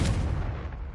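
A Confringo blasting spell from Hogwarts Legacy going off as one loud, close, booming explosion that hits at once and rolls off over a second.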